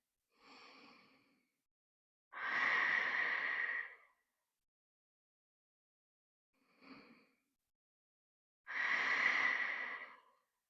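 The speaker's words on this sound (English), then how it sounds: "Deep breaths in and out." Slow, deep breathing from a resting child's pose in a beginner mat Pilates class: four breaths alternating long and short, with two loud drawn-out exhales, each followed by silence, close and clear with no talking.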